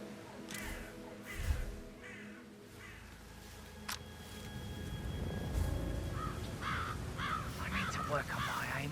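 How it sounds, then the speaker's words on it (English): Crows in the Dartmoor level of the Hitman 3 video game caw repeatedly in short harsh bursts at moderate distance over a low ambient rumble, with a voice speaking partway through. "I'll never get rid of those stupid birds."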